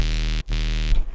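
An EDM bass synth, processed with OTT compression and Camel Crusher distortion, drones as a loud, buzzing sustained note rich in harmonics. It cuts briefly, resumes and then breaks off, with no voices.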